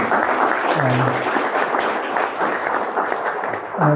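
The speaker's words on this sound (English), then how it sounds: "Let us give a big applause to Minister Lim." Steady applause from a crowd at a talk on inter-Korean relations and nuclear issues fills the whole stretch, dense and sustained at an even level.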